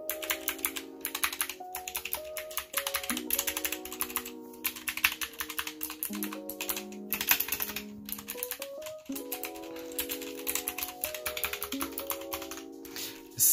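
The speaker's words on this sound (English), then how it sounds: "let's see how this sounds with the keyboard." Continuous rapid typing on a Punkston TH61 computer keyboard, crisp clacking keystrokes close up, with a steady tonal hum underneath.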